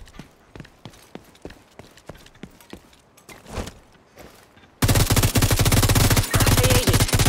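Automatic rifle fire in The Division 2 on PS4 Pro starts with a string of sharp, evenly spaced shots and then becomes a loud, continuous rapid burst near the end.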